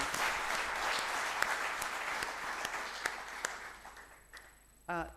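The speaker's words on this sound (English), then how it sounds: "applause" Audience at a talk on African spirituality and herbal medicine gives a round of applause, a soft, distant patter of clapping with a few sharper claps that tapers off before a voice begins to speak.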